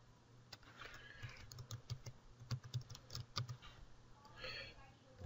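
Quiet, irregular clicking of keys on a computer keyboard as HTML code is typed, keystrokes coming in quick bursts and pauses, fairly close.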